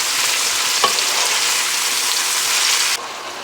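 A flat iron steak fries loudly in a pan, a dense, even crackling sizzle held close for several seconds with one small tap early on, cutting off abruptly near the end.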